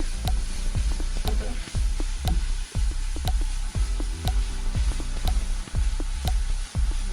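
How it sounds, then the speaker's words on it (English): Steady sizzling and crackling of ground beef frying in a pan, with repeated sharp clicks and scrapes of a utensil stirring at a steady rhythm. "the ground beef is basically almost done frying"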